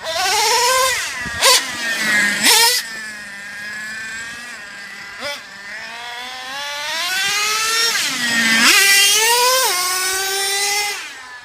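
Traxxas Revo 3.3 nitro RC truck racing about, its small engine whining high and buzzy, rising and falling in pitch as it speeds up and slows, loud and close with brief bangs in between.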